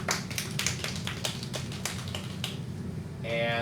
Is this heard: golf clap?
yes